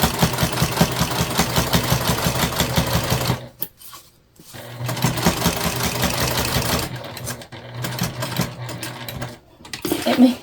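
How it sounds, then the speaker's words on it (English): A freshly oiled sewing machine with a walking foot stitches a lunch bag along its sides, a loud steady mechanical chatter that stops briefly around four seconds, restarts, then falters in short bursts near the end. "a lot of that sound you hear is from my walking foot"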